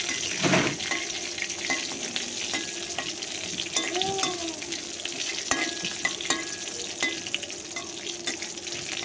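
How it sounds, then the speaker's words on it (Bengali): Dried red chillies fry in a pan after hilsa fish tail for a bhorta mash, giving a close, continuous sizzle with scraping stirring sounds and occasional clinks. "এখন আমি এখানে শুকনো মরিচ দিয়ে দিব ভাজার জন্য।"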